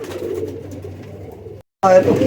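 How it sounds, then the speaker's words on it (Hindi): Pigeons in a breeding loft coo softly and continuously nearby, then a brief gap gives way to a louder burst. "माशाल्लाह कबूतर बहुत हैं दोस्तों, बहुत कबूतर हैं अल्हम्दुलिल्लाह।"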